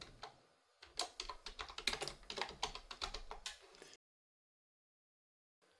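Fingers clatter across a computer keyboard to type Control F, a quick run of close, crisp key clicks for about four seconds before stopping into silence.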